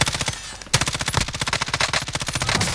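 Rapid automatic gunfire in the video game Call of Duty: Modern Warfare, a close, loud string of evenly spaced shots after a brief pause near the start, continuing steadily to the end.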